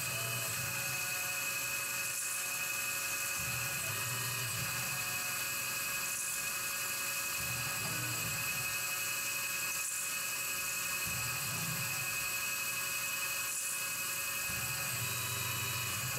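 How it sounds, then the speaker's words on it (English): A cobalt drill bit bores into titanium with a steady high-pitched whine that persists throughout, punctuated by faint periodic pulses as the bit bites, with no talk. "Especially drilling into titanium, I found that the cobalt drill bits last so much longer than a regular high-speed steel drill bit."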